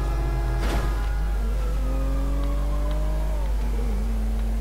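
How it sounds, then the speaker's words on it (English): A car engine in the game GTA V roars steadily, one loud close revving drone whose pitch climbs and then drops back, running continuously under a heavy low rumble with no speech. "I just prefer to listen to the roar of the engine."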